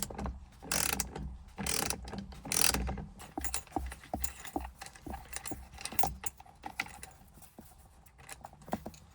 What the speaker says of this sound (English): Next, I'm going to remove the 24mm nut to be able to release the steering wheel.